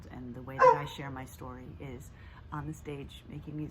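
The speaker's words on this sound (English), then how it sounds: "And that is my dog barking in the yard." A pet dog barks out in a yard, faint and distant yips behind steady close speech from a person talking.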